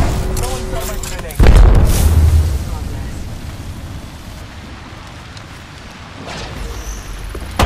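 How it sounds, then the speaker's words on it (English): Arc star and thermite grenade blasts in a battle royale video game, a sudden heavy boom followed by a rumbling, crackling burn that slowly fades into hissing ambience, with a fainter second burst later. "Throwing arc star. Throwing arc star. Throwing thermite grenade."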